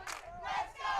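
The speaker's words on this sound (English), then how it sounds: "And scattered boos. And Golden fans yelling Bush League." Crowd at a Colorado 4A state championship softball game between Erie and Golden, booing and shouting in a rising, swelling roar of many voices, loud and fairly close, in two surges.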